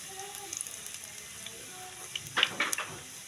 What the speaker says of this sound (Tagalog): Lagay natin ang ating garlic.